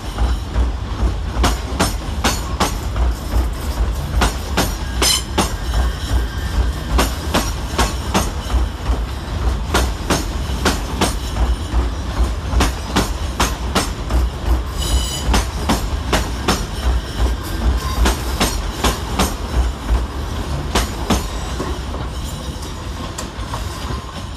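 Class 357 electric trains pull out of London Fenchurch Street station, wheels beating a steady, loud clickety-clack over rail joints, with a brief squeal partway through.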